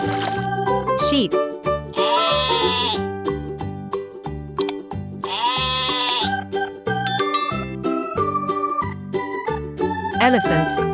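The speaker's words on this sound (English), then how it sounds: "Sheep." Sheep bleating in a few wavering calls over a cheerful, bouncy music track.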